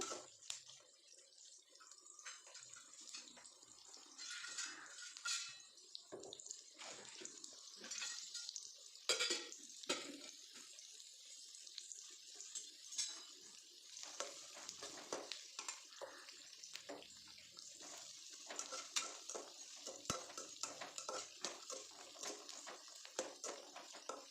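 Okra curry with garlic being stirred in a pan: a quiet but steady sizzle broken by irregular scraping and clinks of the spoon against the pan, going on for the whole stretch.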